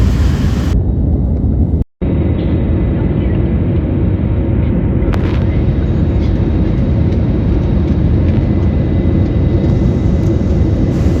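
A loud, steady roar of jet engines and rushing air fills the cabin of an airplane descending toward Mumbai on a second landing attempt, with a brief dropout early on.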